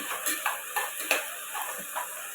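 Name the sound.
stirring and mixing vegetable biryani in pot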